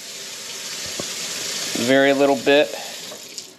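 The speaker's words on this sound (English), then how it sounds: "And then get the water going" Water runs from a tap into a container to top off a homemade ammonia and Dawn Platinum stain remover mix, a steady close hiss of flow with a person briefly speaking over it.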